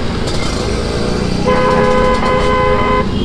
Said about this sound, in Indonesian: klakson udah ganti masa nggak dipakai bos